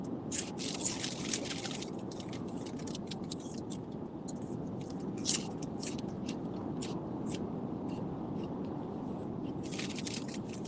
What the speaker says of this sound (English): You hear me munching? I'm eating chips.